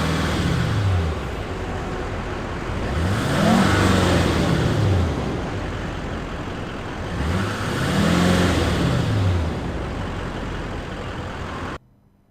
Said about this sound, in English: But let's start up the engine here for a moment.